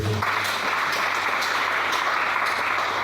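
A church congregation applauding together, a steady dense wash of clapping that holds at even loudness for the whole stretch with no speech over it.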